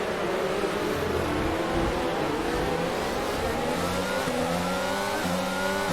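Williams Formula 1 car engine in the F1 22 racing game revving up through the gears with rising whines, loud and continuous over steady roar, no talk.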